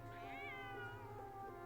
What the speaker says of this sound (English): It's Nefer's cat.